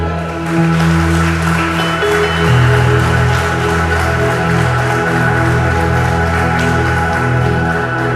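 A church congregation applauds together in a steady, dense wash of clapping that lasts several seconds, with a sustained tonal backing underneath.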